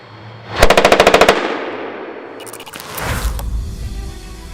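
An M240C machine gun mounted on a Bradley fires 7.62mm rounds in one loud, close, rapid burst of about a dozen evenly spaced shots, followed by echoing rumble and a second distant blast.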